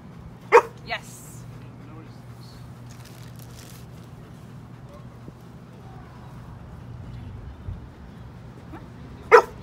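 A seizure response service dog gives two short barks on command, one near the start and one at the end, separated by quiet room sound and faint movement.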